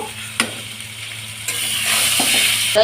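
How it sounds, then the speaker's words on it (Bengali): Fish curry gravy for mourala fish jhol simmers in a pan after water is added, giving a steady bubbling hiss that swells slightly. A few soft knocks punctuate it, and a louder one comes at the end. "পরিমাণ মতো জল দিয়ে দিয়েছি দিয়ে একটু ঝোলটাকে ফুটিয়ে নেব"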